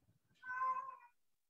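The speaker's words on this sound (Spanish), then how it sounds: "Hay un gatito por ahí." A single cat meows once, faint and somewhat distant, a short drawn-out call against an otherwise quiet room.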